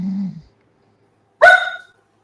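A pet dog lets out a single sharp bark, loud and close, after a brief low rumble, with silence in between.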